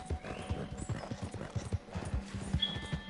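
Horse hooves clip-clop in quick, even steps in a PS4 video game, close and distinct, with a brief whinny-like sound near the end.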